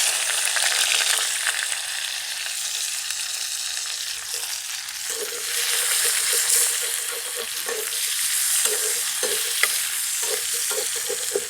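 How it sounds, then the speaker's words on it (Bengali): Chopped onions hit hot oil in a pan and frying continues with a loud, steady hiss and crackle, stirred now and then with soft scraping, close up and without speech. "ওই তেলেতেই আমি দিয়ে দেবো এই যে কেটে রাখা পেঁয়াজ।"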